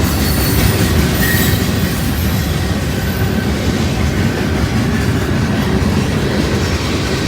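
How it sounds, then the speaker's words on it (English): A 21-car freight train with one locomotive rolls past close by, its steady loud rumble and wheel clatter filling the whole stretch with some squealing from the rails, no voices. "88 axles this morning, so we got 21 cars and a locomotive."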